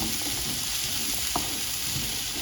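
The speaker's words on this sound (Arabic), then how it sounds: "هنزل بقى على البصل والثوم ده وهبدا اقلب كده" Onion and garlic sizzle loudly in a hot pan, a constant close frying hiss with a single sharp scrape from the spoon turning them partway through.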